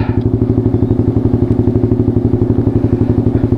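A motorcycle engine idles nearby with a steady, chugging putter, loud and continuous throughout, with no talking.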